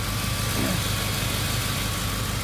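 Old Suzuki truck engine idling steadily as it warms up after being started, a continuous low rumble with constant vibration throughout, close by, no talking.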